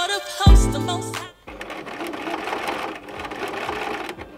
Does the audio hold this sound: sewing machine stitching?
yes